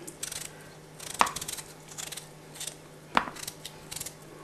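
Knife chopping through potatoes on a board for Irish stew, with two sharp, isolated cuts standing out clearly at close range amid quieter handling noises.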